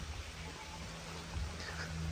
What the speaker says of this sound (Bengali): আবার এখনই তো বৃষ্টি নেমে গেছে